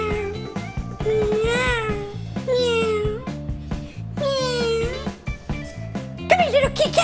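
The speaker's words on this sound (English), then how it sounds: "Come here, little kitty cat." Cat meowing in a video game, several rising and falling meows over steady game background music, clear and fairly close.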